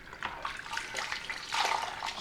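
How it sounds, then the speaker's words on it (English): A face cloth is dunked and swished in a bowl of water during a wet shave, giving close, soft splashing and sloshing bursts at a moderate level with no voice over it. "So I'm just going to dump that in my bowl of water"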